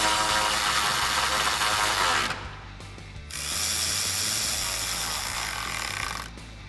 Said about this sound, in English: I'll just tighten up this bolt with my 13mm socket